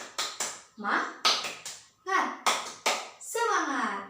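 A primary school class does a rhythmic cheer clap, with sharp bursts of hand clapping alternating with children's voices chanting in time, loud and close in a classroom.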